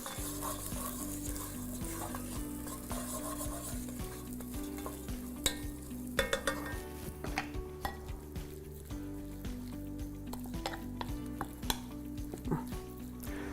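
Chicken fries in a hot pan with a soft continuous sizzle, joined by repeated scraping and sharp clinks of a utensil stirring against the pan, close and unaccompanied by speech.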